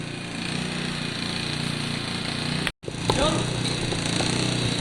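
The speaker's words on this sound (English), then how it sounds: "give it a few kicks, get the fuel in, get that carb, and see if it starts up" An Italjet scooter engine is kicked over and sputters in a rough, continuous mechanical drone that drops out briefly and then resumes with uneven bursts. Someone talks over it.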